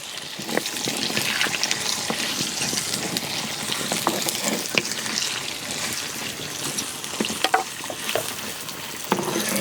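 Sliced onions frying in a pan for a coconut curry, a continuous crackling sizzle with scattered pops and stirring clicks, close and steady without any talk.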